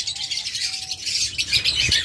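Chirps and tweets from a group of local-bred mutation pet birds, close-ringed and kept for sale, sound continuously and fairly close. The calls are busy and overlapping, and there is no talking.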